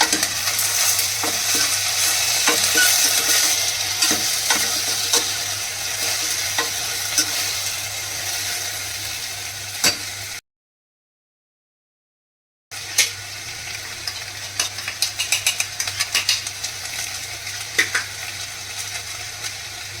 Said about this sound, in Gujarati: હવે આપણે આ ગુવાર એડ કરશું હવે આપણે થોડી પાછું ગોળ હલાવી લઈએ